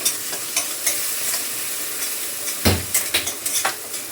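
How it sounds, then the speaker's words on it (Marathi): Onion sautéing in a pan with coriander and red chili powder added, a steady close sizzle broken by scraping spoon strokes that grow more frequent toward the end, with no talking. "कांदा परतलाय, आता कोथिंबीर टाकते आणि लगेच वरतून आपलं हे लाल तिखट वगैरे."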